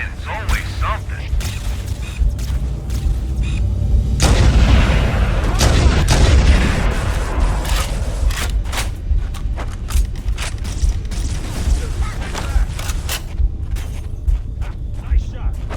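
Gunfire and booming weapon blasts in the Halo: Combat Evolved video game, dense and loud with a heavy burst of explosions in the middle, sharp shots scattered throughout.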